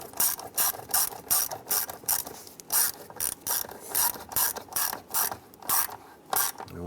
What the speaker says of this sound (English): I'm going to go ahead and tighten down the clamp here